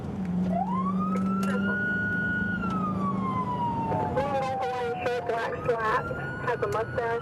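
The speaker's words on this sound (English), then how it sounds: "blasting his siren, weaves his way carefully through the busy city streets" A police car siren wails up and holds, then winds down while fast yelping bursts cut in, loud and close over busy city street traffic noise.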